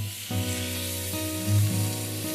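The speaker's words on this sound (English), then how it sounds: "we're going to let it sear for about 4 minutes on each side" A pot roast sears in olive oil at the bottom of a pot, giving a continuous bright sizzle beneath a steady low hum that swells slightly at times.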